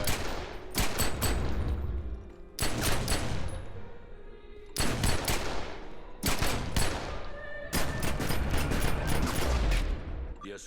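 Pistol gunfire from the online game The Secret World comes in four loud clusters of rapid sharp shots, each burst followed by a brief pause before the next volley.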